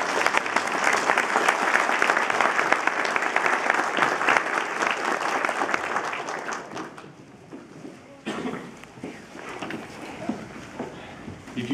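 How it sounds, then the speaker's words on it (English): Audience applauding inductees at an induction ceremony, a dense sustained clapping that fills the room for about seven seconds before thinning into scattered claps and a brief renewed burst. "give a round of applause again to all our inductees."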